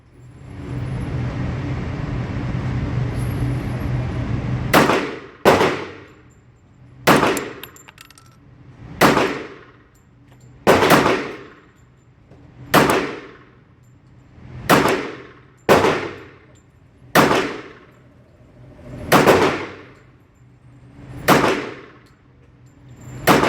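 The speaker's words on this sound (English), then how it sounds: "I'm going to shoot at the target." A stainless Bul Armory SAS II Tac Commander .45 ACP pistol fires about fourteen loud, close shots at a steel target at an outdoor range, roughly one to two seconds apart, some as quick pairs, each ringing briefly, after a few seconds of steady background noise.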